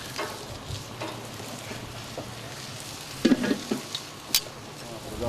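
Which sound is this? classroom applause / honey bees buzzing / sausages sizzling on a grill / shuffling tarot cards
sausages sizzling on a grill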